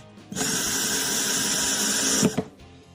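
A cordless screwdriver with an instant brake drives a screw, giving a steady high whine for about two seconds that ends in an abrupt stop and a short clunk.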